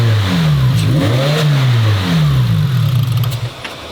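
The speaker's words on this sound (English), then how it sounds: "Let me go ahead and just fire it up and give it a few blips of gas so you guys can hear what this one sounds like" A turbocharged car engine runs loud and close as several throttle blips push its pitch up and let it fall back, one after another, before it settles back toward idle.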